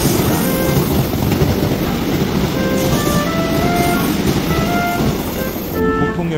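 A train rolls into the platform at Onsu subway station, a loud, steady rumble of wheels on rails with faint squealing tones, continuous and close throughout.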